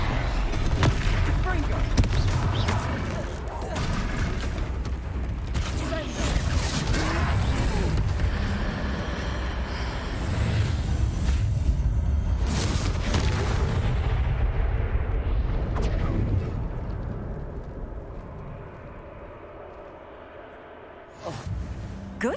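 Confringo spell blasts in the Hogwarts Legacy video game make heavy booming explosions and rumbling impacts during a fight, with game voices talking over them before the din fades near the end.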